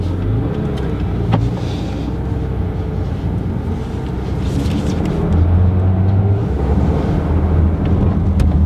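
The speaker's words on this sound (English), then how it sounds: "So let's leave it in normal PDK now and we'll have the exhaust on." A Porsche 911 GT3 RS with a PDK gearbox, in normal PDK mode with the sport exhaust open, drones steadily from inside the car, with wind noise and no talking.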